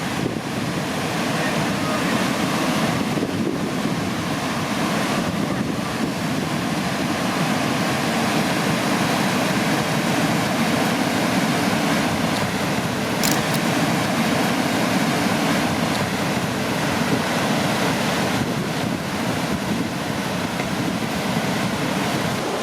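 Big whitewater rapids at Chap Falls on a canoe trip roar as a dense, constant broadband wash throughout, loud and unbroken, with gusty wind noise mixed in and no clear voices.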